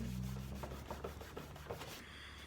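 A fingertip gives a glued paper card a quick rub to press it down, a run of soft, close scratchy strokes in a steady rhythm.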